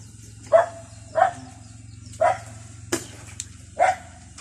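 A dog, one of the family's pets at bath time, barks in short, loud, evenly spaced yaps, five barks over a steady low background hum, with no talking.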